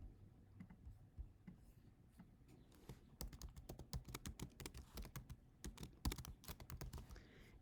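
Rapid typing on a computer keyboard while entering text into a text box, with keystrokes sparse at first and then becoming a fast, dense, close-up clatter of clicks.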